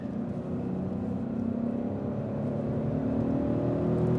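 A Smart Fortwo (453) car accelerating hard from a standing start, its engine pulling steadily at about 3,000 RPM as a continuous mid-pitched drone that builds slightly in loudness over the few seconds, heard from inside with no talking.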